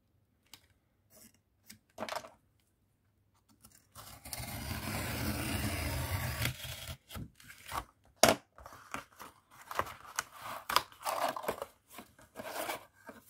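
A blade cuts through a journal cover with crunching, scraping strokes: a sustained rasping stretch, then a series of sharp irregular cuts and clicks, close and fairly quiet.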